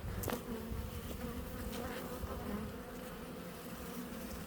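Honeybees buzzing steadily as they are shaken back into their colony during a winter hive inspection with a powdered-sugar varroa test, a dense continuous drone close by with no talk.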